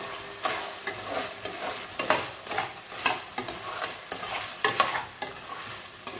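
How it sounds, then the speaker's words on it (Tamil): Village-style kuzhambu vegetables, brinjal and drumstick, sautéing in a pan while being stirred, with repeated scraping strokes in an uneven rhythm over a low sizzle, heard up close. "இது நல்லா வதங்கி வரட்டும் நடுவில் நடுவில் கலரி கொடுத்துக்கணும்"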